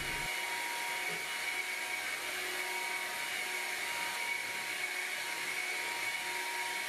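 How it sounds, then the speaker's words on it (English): A Hoover Lynx lightweight vacuum cleaner runs continuously, a steady high-pitched motor whine with a broad airy rush, holding a constant level from start to finish with no talking. "here's my lightweight Hoover Lynx."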